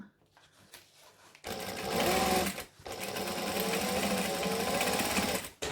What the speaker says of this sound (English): And again, making sure that we backstitch.